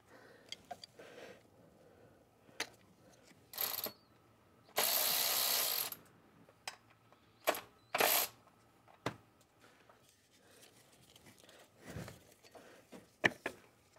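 Ratchet loosening a T50 Torx bolt on a 2000 BMW 740i E38 engine, heard as scattered short clicking bursts and one longer rasping run, close and fairly quiet with gaps between.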